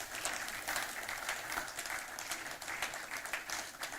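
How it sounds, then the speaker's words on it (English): Guests at a cocktails-and-conversations evening applaud Charlotte Osei, former Ghanaian electoral commissioner, in a steady, fairly quiet round of clapping that continues evenly for about four seconds. "a thunderous round of applause to Charlotte Osei"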